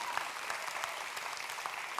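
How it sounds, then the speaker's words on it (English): Light, polite golf clapping from a church audience, a thin scattering of hands tapping unevenly and softly, sustained but subdued with a few sharper individual claps standing out. "so many of us are golf clapping for that"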